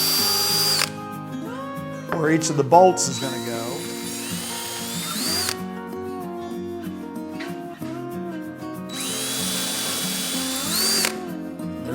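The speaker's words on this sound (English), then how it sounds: "So I'm just going to take this drill and drill some pilot holes" A power drill boring pilot holes for the bolts of a Murphy bed's hinge brackets, running in two long, loud whining bursts with ratcheting clicks between them while someone talks.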